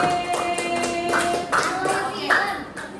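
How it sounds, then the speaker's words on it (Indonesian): A Grade 5 class claps for a group of classmates, a short burst of scattered hand claps in a classroom, heard under a teacher's voice and some background chatter. "Tepuk tangan untuk kelompok tadi"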